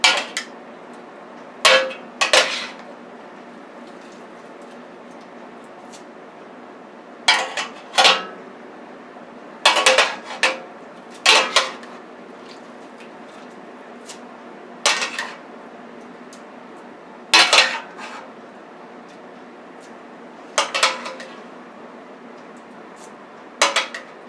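Ramen noodles being tossed into steak in a pan give a series of short metallic clanks and scrapes, arriving in uneven clusters with quiet gaps between them and no talking.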